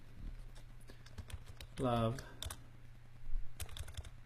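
A few quick key taps on a computer keyboard while entering text, light clicks scattered under a low steady hum, with a brief voiced sound partway through.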